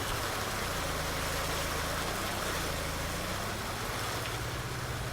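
Tractor engine in Farming Simulator 19, a steady low broadband drone that runs throughout at an even level with no breaks, like a motor idling or running close by.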